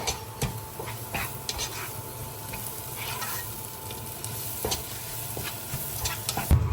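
Rabbit meat with spices is stirred in a pan over a low, continuous sizzle, with repeated scraping and tapping strokes of the utensil, close and moderately quiet.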